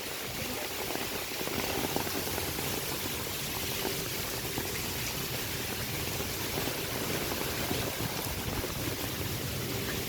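Rain falling on a large umbrella outdoors at the Sai Priya beach resort in Vizag, giving a dense, steady patter and hiss that holds evenly throughout with no one speaking.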